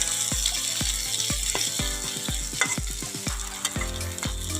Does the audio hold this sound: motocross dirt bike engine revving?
no